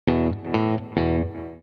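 Electric guitar on the bridge pickup, plugged into an amp with a little reverb and delay, plays three sustained power chords that ring out with a slight shimmer, no voices.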